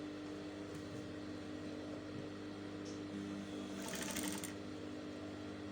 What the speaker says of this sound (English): I'm going to be top stitching my sewing allowance like so